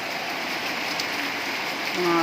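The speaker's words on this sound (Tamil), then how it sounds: "2 நாளாக மழை பெய்யுது." Steady rain falling outdoors as a continuous broadband hiss, fairly loud and uninterrupted, after several days of hot weather, with a brief tonal sound near the end.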